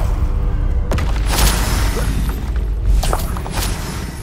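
Glacius ice spell effect from the Hogwarts Legacy video game, loud booming and shattering bursts with whooshing swells, dense and continuous for several seconds with two or three sharper hits.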